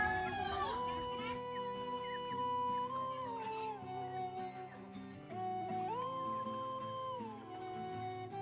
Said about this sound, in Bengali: তো দেখেছো আমাদের বাড়িতে কতগুলো মুরগি, আর সবগুলোকে এখন খেতে দেবো।